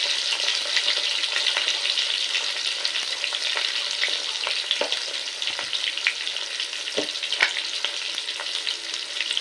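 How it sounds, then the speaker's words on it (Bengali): Potatoes sizzle steadily in hot oil with turmeric and salt for a Bengali katla fish curry, a close, continuous crackling hiss with scattered sharper pops and no voices. "এবার লবণ হলুদ দিয়ে আলুটা একটু লাল করে ভেজে নিই"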